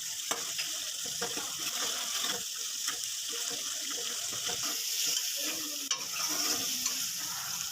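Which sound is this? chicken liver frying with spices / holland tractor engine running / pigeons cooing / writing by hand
chicken liver frying with spices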